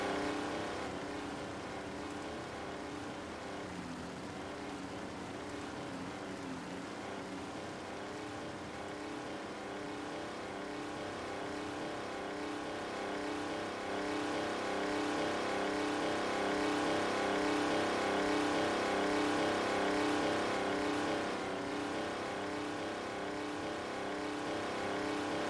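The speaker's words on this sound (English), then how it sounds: "Loud tractor." A loud tractor engine drones in Farming Simulator 19, a steady, harmonically rich rumble that holds constant for the whole stretch and swells slightly near the end, with no voices over it.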